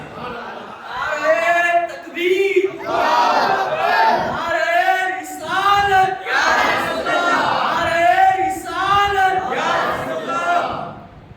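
A crowd at a Muharram religious gathering chants slogans in unison, loud rhythmic shouted phrases repeating in call-and-response bursts close by, filling the whole stretch.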